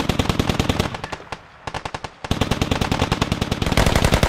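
Automatic gunfire in the Squad video game, loud and close: rapid rhythmic bursts with a brief pause in the middle, then continuous sustained firing to the end.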